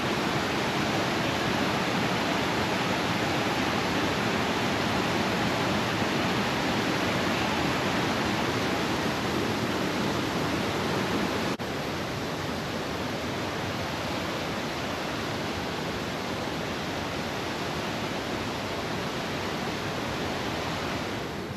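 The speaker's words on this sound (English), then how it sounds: "this is the same creek that was going right by my camp. Looks like it's flowing to the Yellowstone River." Creek in Yellowstone flowing toward the Yellowstone River, a steady broadband rush of running water, constant and fairly close, with no voices.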